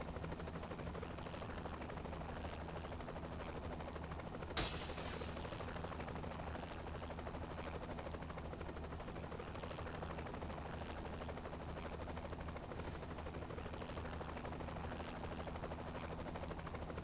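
A helicopter rotor drones steadily in Saints Row: The Third, a continuous low chopping hum at moderate distance with a brief sharp crack partway through, no voices.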